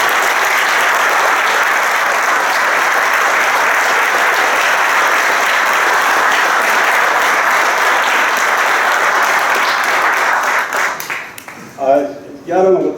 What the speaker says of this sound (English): So if you would join me in a round of applause recognizing those people and beyond.